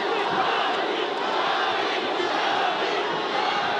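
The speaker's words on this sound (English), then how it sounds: "The fans are shouting, Ali, Ali." A dense boxing-arena crowd roars steadily at a Nico Ali Walsh bout against Kittisak Klinson, a broad, unbroken wall of massed voices chanting and shouting without letup.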